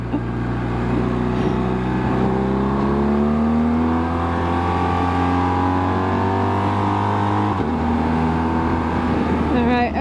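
A BMW R1250 GSA motorcycle overtakes a car on a mountain road in Portugal, its engine droning loud and steady with rising revs and a brief shift near the end, under constant wind roar.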